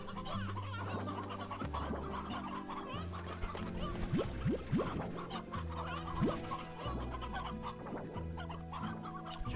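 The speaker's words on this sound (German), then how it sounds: "Ich habe ja eigentlich gesagt, dass zwei Hähne eigentlich ausreichen" Chickens cluck repeatedly in the Slime Rancher video game, with layered clucks and short calls over steady game music and ambience, close and continuous with no talking.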